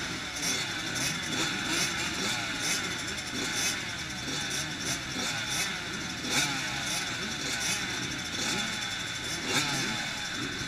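Several dirt bike motorcycles rev their engines at the start of a ladies beginner motocross race at Gopher Dunes, a steady, dense buzzing drone with repeated throttle blips and no talking.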